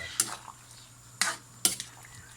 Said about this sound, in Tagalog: Tapos, haluin lang po ng isang beses para lang po pampalasa po dun sa